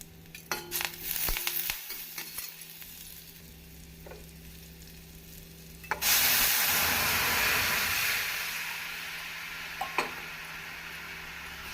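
Tamarind water poured into a hot pan of frying garlic, black pepper and cumin for rasam, a loud sudden burst of sizzling and hissing that follows quieter frying and stays strong before easing slightly.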